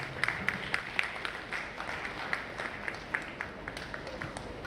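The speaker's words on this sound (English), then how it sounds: "Please, a huge round of applause." Applause from an audience at a live UPSC event as a guest is invited onto the dais, fairly faint and sparse, with scattered distinct claps over a soft crowd bed.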